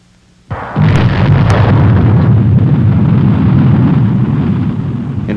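A Pershing missile launch at Cape Canaveral opens with an abrupt blast and turns into a loud, sustained roar that holds for several seconds, with no talking.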